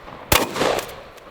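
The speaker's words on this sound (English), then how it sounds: "Let's see what we can do with a shotgun" A shotgun fires a single slug at a helicopter rotor blade outdoors: one sharp, loud close blast followed by a short echoing tail.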